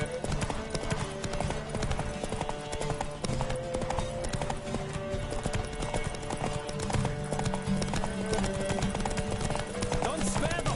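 Horse hooves clip-clop at a steady gallop during a race in The Witcher 3: Wild Hunt, with a whinny, a music bed and game voices over a continuous, moderately quiet mix.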